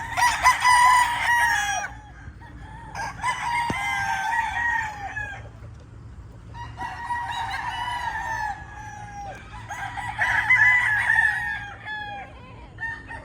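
Roosters (stags) on a clean, freshly mowed chicken farm crow loudly in four long, overlapping bursts, with brief clucks and quieter gaps between them.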